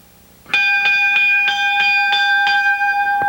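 A wrestling ring bell at a mid-1980s championship wrestling match is struck repeatedly, about eight sharp ringing clangs in a steady rhythm, loud and close, each tone lingering into the next.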